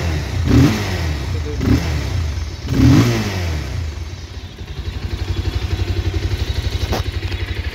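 A 2023 Bajaj Pulsar 220F BS6 motorcycle accelerates up close: a few sharp throttle blips with rattly clatter, then a loud, steady engine drone that keeps pulsing as the revs climb.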